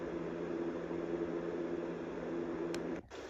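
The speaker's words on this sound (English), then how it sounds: "The eighth sound is a big fan." A sound machine playing a big fan setting gives a steady, close whooshing drone with a faint tonal hum. It cuts off abruptly near the end, then resumes quieter.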